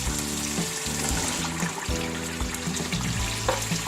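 Chickpeas tipped into fried masala in oil in a pan, a busy crackling sizzle with watery splashes and stirring scrapes, close and continuous throughout.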